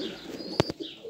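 Pigeons in a breeder's loft giving a soft, brief coo or two amid faint background chirping, fairly quiet and close.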